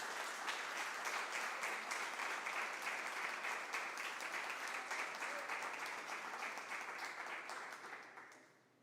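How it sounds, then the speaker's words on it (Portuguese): A church congregation applauds in a steady, dense wash of clapping that carries on for several seconds before fading away at the end. "Pode aplaudir o Senhor Jesus?"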